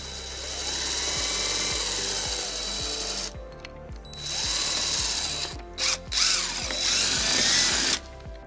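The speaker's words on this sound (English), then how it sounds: "using a 3/16 drill bit, we're going to drill our first hole" A power drill with a 3/16 drill bit whines in bursts, grinding into a 2017 Toyota RAV4 bumper with rising and falling pitch, stopping and starting several times close by.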